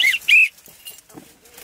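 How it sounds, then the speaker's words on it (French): A whistle is blown twice in quick succession during the grape harvest in a grand cru vineyard, sharp and loud, followed by faint distant activity. "Un coup de sifflet."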